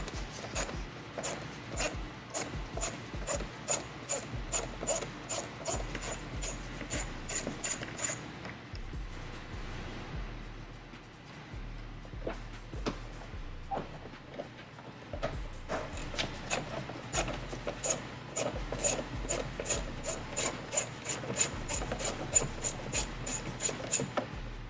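Interior trim screws are removed from a BMW X4 M40i, giving bursts of rapid close clicking and ratcheting with a quieter pause in the middle before the clicking resumes.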